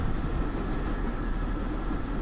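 Rapid train bound for Tosu heading south on the Kagoshima Main Line in Fukuoka, a steady low rumble of wheels and motor running continuously without a break.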